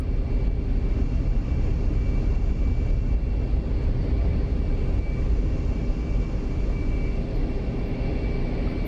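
A jet landing on a runway in the DCS flight simulator, heard as a loud, steady, broadband engine roar with a faint high whine, continuous and close, with no talk.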